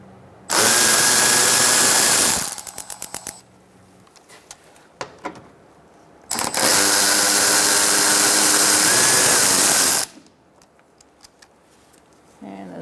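On a 2004-2009 Mazda 3, a power tool with a 10mm socket whirs loudly in two long bursts to back out a bolt, with short ratcheting clicks between them and no speech.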